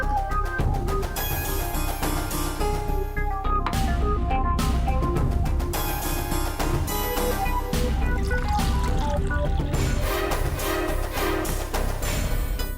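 Drinking water is poured out, a continuous trickling and filling sound lasting several seconds, heard close and steady beneath a dense layer of background music.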